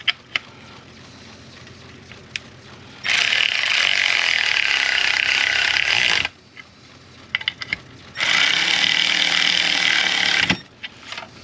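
A ratchet tightening a crankshaft position sensor bolt coated with thread locker, in two long steady bursts of rapid clicking, close and fairly loud, with quiet gaps and small handling noises between.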